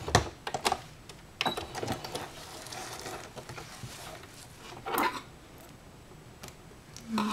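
A sewing machine back stitching a fabric tab gives short bursts of rapid mechanical chatter separated by quiet pauses, close and fairly soft.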